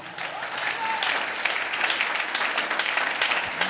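A church congregation claps for Jesus during a prophetic service, a dense, continuous burst of hand clapping from many people, fairly loud and even, with faint crowd voices mixed in.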